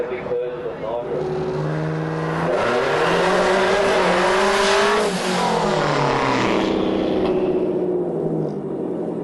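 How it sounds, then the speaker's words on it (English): Drag car purging its nitrous before a burnout, a loud sustained hiss over the idling and revving engine, swelling midway and easing off near the end. "With Vic driving, he purges the nitrous before the burnout."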